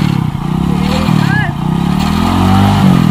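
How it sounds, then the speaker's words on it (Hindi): A motorcycle engine idles and revs close by as someone gets ready to ride, with people talking over the steady engine rumble. "तो संगवारी अभी मुस्कान चलाने वाला है गाड़ी"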